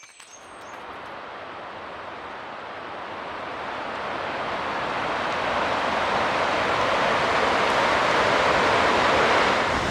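River flowing beside a campsite, a steady broadband rush of water that swells gradually louder and stays continuous, with no talking.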